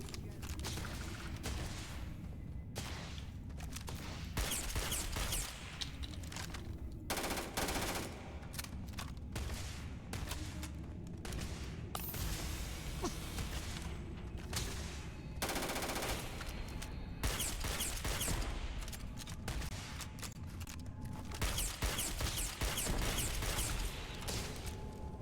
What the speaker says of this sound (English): Yeah, this handgun's nasty.